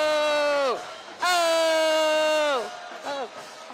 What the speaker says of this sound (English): There's that cheer.